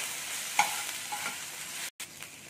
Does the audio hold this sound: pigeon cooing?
no